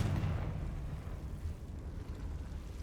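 Confringo fire spell in the video game Hogwarts Legacy: a heavy, rumbling explosion with a strong initial blast that rolls on as a sustained low roar, loud and steady, with no voices.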